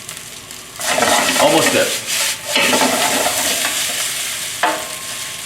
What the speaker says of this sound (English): You need to stir and toss a few times.